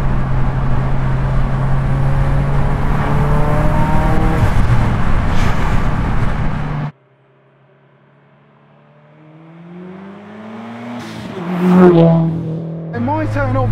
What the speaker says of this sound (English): It's not a long drawn out shift because you've got the flywheel.